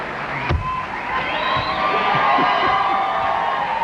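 Switch-triggered studio-audience applause on a 1992 TV sketch comedy show swells from a sharp click into a sustained roar of clapping, cheers and whoops, steady and fairly loud throughout with nobody speaking.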